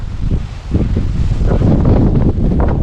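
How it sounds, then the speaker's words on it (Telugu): Strong wind roars steadily across the microphone beside a reservoir, a dense low rumble with gusting surges and no voices. "ఫుల్ గాలి పెడుతుంది"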